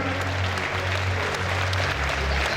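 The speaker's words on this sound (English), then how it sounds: "Big round of applause, ladies and gentlemen, for the fighters here tonight." Crowd at a boxing or fight event applauding the fighters, continuous dense clapping with a low hum underneath, close and steady for a few seconds.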